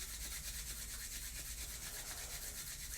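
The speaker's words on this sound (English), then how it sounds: "we're going to rub our hands together to create some warmth" Hands rubbing together for warmth, a steady, even friction hiss held at some distance from the microphone, faint and continuous with no speech.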